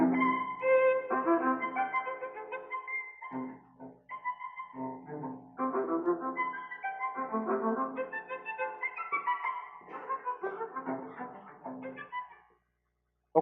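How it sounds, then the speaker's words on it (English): Computer-generated string quartet music by Lejaren Hiller plays as harmonic, sustained string lines with several pauses and shifting chords, moderately loud and steady throughout before ending in silence. "And the score here is the first part of a string quartet, and it would sound like this."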